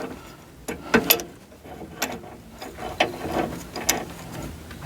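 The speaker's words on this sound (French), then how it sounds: "je visse le côté extérieur" Ratchet wrench tightening the outer side of a rear axle silentbloc on a Citroën Evasion, giving a few bursts of clicking strokes with pauses between them, at close range with no talking.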